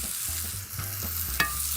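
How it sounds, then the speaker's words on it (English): Onion and garlic sizzle in a hot frying pan, a steady close crackle broken by a few soft stirring scrapes, with no talking. "In go the onion and garlic. Yeah, get that nice little sizzle."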